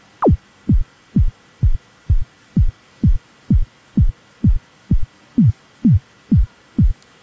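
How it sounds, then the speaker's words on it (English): Synthesized kick drum built in Ableton Live, fourteen deep booming thumps with a quick downward pitch drop, evenly spaced at a steady tempo and loud, heard alone. "we can move these around till we get a basic kind of kick sound."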